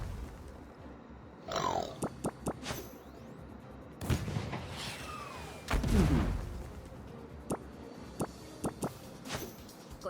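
Tank cannon fire in the naval-and-armour game Metal Waltz, heavy booming shots and impacts at irregular intervals, with sharp clanks and quieter crackles in between.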